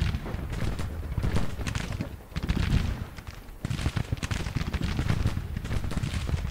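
Rifle fire from Whitworth rifles in a Civil War battle in the strategy game Grand Tactician: The Civil War, with steady crackling shots and volleys that sound somewhat distant and scattered.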